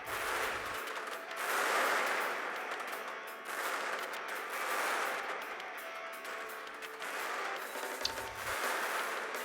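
Artillery fire in the tank combat game Total Tank Simulator, a dense, continuous barrage of booming blasts that swells and fades in waves, loud and sustained with no pauses throughout.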